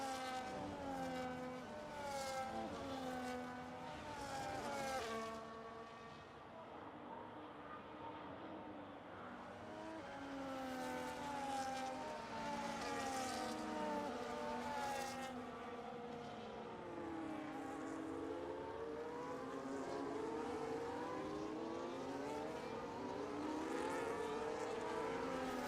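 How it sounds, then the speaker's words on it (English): Several Formula 1 cars in a racing video game roar past one after another at the Dutch Grand Prix, high-revving engines rising and falling in pitch as they sweep by, with brief tire squeals. "let you guys enjoy the noise and sound of these amazing Formula 1 cars"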